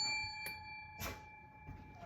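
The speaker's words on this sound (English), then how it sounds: "So we're going to break up the energy with my little bell." A little hand bell rings with a clear, sustained metallic tone that lingers and slowly fades, quiet and close, with faint rustling and a soft knock partway through.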